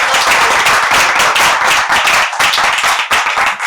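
An audience at a Gujarati literary gathering claps for two speakers; dense, loud, sustained applause of many hands fills the room for several seconds without a pause.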